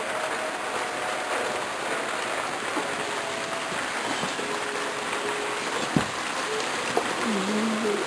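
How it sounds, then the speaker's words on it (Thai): Steady rain falls all day in lush green Pai, Thailand, a dense continuous hiss heard from near a guesthouse room, with a couple of faint knocks and a brief far-off call over it. "ฝนตกทั้งวันเลย"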